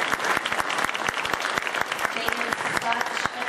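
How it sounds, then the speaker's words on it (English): Dense, steady applause from an audience at a holiday performance by a West Point group, many hands clapping close and full for the whole stretch. "Let's give them one more round of applause"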